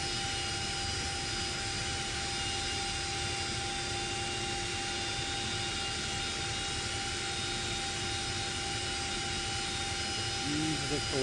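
A CH-47D Chinook helicopter engine in the X-Plane 11 flight simulator produces a steady, dense turbine whine and broadband roar with fixed tonal lines, holding constant and loud throughout.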